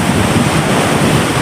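Atlantic Ocean surf at San Juan, Puerto Rico: loud, close roar of breaking waves with rushing water and wind buffeting the microphone, steady throughout.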